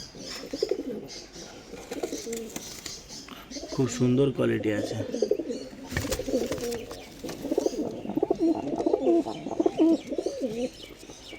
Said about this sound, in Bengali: এই একটা পাউডার নর পায়রা রয়েছে